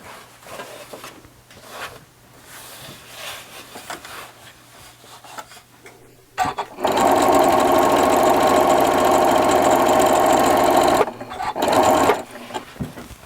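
A sewing machine stitches tucks into fabric in one loud, continuous run of several seconds, then starts again briefly after a short pause, with quieter handling sounds before.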